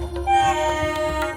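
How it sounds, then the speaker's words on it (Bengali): A train whistle sounds at a station platform, a long steady tonal blast held through the whole moment at moderate loudness over a low rumble, with no voices present. "হঠাৎ শুনতে পেলাম একটা ট্রেনের হুইসেল।"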